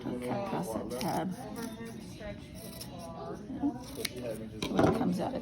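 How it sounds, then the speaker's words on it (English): Scissors snipping thin strips of tape, short rustling cuts heard close by, with talking running throughout. "And then you're just going to cut thin little strips along it."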